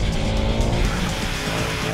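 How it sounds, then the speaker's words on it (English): A Mercedes C63 AMG drifts on a slippery track, its tires squealing steadily under a loud, continuous engine roar, close and unbroken throughout. "it's nice and slippy. Nice to get some drifting done."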